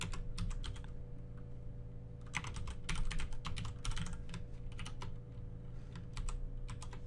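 Rapid typing on a computer keyboard while writing C# code, a dense run of close key clicks with brief pauses between bursts over a steady low background hum.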